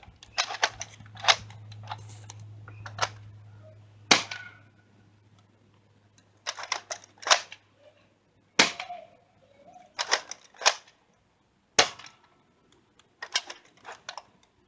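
A modded Nerf Longshot blaster with a 14 kg Titan spring and some locks removed fires darts. Clusters of sharp, close snaps and clacks ring out over a low hum, with short pauses between bursts and no talking.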